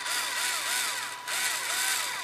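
A Ryobi HP74L drill driver runs steadily near the mic, with a whining motor tone that wavers and briefly dips about halfway through before resuming, and no talking.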